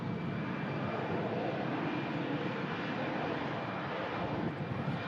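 Lufthansa airliner from Munich at Manchester Airport, a continuous broad engine roar with a steady high whine, loud and unbroken throughout.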